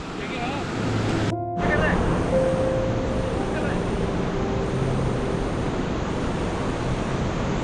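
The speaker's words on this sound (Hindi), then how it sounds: "आपको रिवर की बड़ी अच्छी आवाज़ आती रहेगी" A rushing mountain river on the Valley of Flowers trek in Uttarakhand gives a constant loud, full roar of water that fills the whole scene, with brief faint sounds drifting over it.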